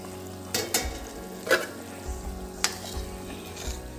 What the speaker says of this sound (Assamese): আঞ্জাখন উতাল আহিছে, মই ভাজি লোৱা পনীৰখিনি দি দিম